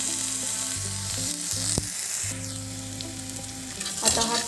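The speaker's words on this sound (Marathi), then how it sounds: "याच्यामध्ये टोमॅटो टाकून आता परतून घेते" Onion and tomatoes frying in a pan make a continuous close sizzle with a few spatula scrapes over a low steady hum.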